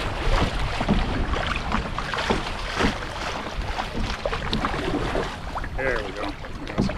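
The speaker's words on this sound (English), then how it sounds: "Still can't get my paddle very deep in the water." Canoe paddle strokes splashing and dipping in shallow water on the Current River, with steady wind noise and a faint voice in the background.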